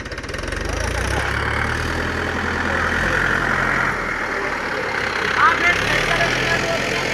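A tractor engine idles with a steady low chugging throb, continuous and fairly close, with voices talking over it.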